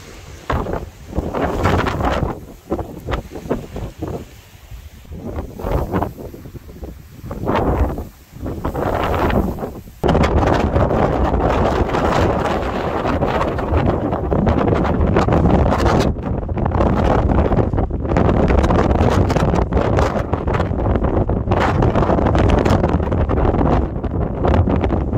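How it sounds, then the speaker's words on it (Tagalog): Strong wind buffets a microphone outdoors in a US national park, first in gusty bursts and then as a continuous loud roaring rumble, with no speech. "It's too windy."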